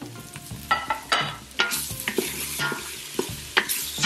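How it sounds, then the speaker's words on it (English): Garlic and softened onions sauté in a pan for wild hog chile verde, with repeated scraping stirs and clunks of a utensil over a steady close sizzle. "I'm gonna go ahead and add the garlic and get those sauteed up as well."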